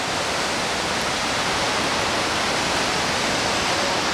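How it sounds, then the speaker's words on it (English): A waterfall near Franz Josef, New Zealand roars steadily and loudly, a dense, unbroken rush of falling water with no pauses or voices. "So this is the waterfall near Franz Josef."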